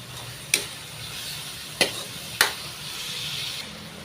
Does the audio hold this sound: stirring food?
yes